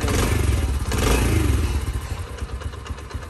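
A motorcycle engine starts up with a loud low rumble and mechanical clatter, settling into a steady idle that fades slightly toward the end, recorded close by with no talk.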